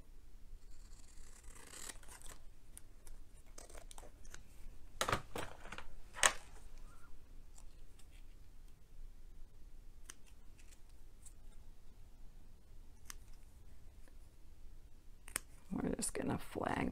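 Scissors cutting gingham fabric by hand for an Easter basket craft, a few faint, sharp snips scattered over quiet room tone, with someone speaking softly in between.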